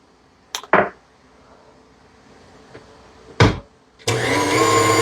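A few sharp clatters and knocks come first, then an electric mixer abruptly starts up on bread dough, its loud, close motor whirring steadily to the end.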